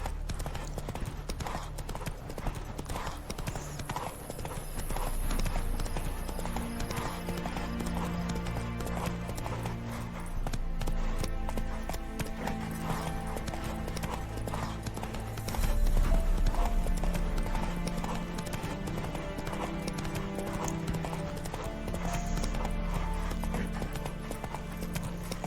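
Roach the horse in The Witcher 3 game trots with steady, rhythmic clip-clop hoofbeats throughout, set against a continuous layer of game music and ambience, with an occasional whinny and no voices.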